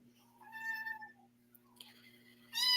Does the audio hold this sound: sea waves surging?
no